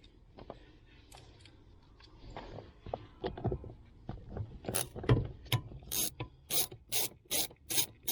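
A 10 mm socket ratchet works a steering boot clamp on a Toyota Highlander, starting with scattered metallic clicks and scraping and building into a quick, regular run of close ratchet clicks near the end.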